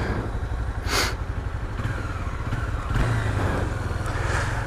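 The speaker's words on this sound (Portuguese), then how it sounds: "Eita, quase morreu a moto." Motorcycle engine idling roughly after nearly stalling, a steady low rumbling chug with uneven pulses, close to the microphone, with no talking.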